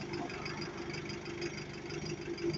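Rumbling idle of a ZF-equipped Enviro 200 single-deck bus engine waiting at a red light in Swindon, a steady low throb with faint knocking, close by and continuous with no talk.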